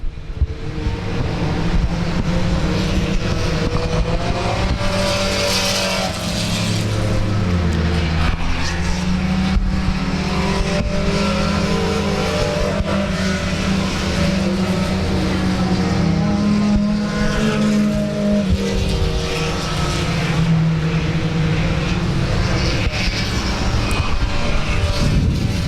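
Race cars roar continuously around South Texas Speedway, engines droning loud and close with rising and falling pitch as they pass, layered with wind and a broad rumbling wash and no talk.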